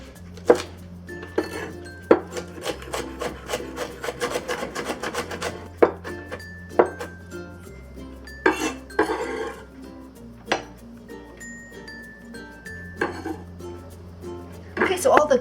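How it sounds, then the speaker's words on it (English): A knife mincing green onion on a cutting board while preparing steamed chicken wings with Chinese sausage: uneven bursts of quick chopping taps and scraping, close by, with a voice talking at points between the cuts. "we'll mince the green onion"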